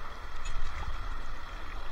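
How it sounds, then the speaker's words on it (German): A stream flows steadily and close by at a gold-panning spot in Thuringia with high water, a continuous broadband rush and gurgle with no pauses. "Ich hoffe auch, dass der Bach nicht zu laut ist."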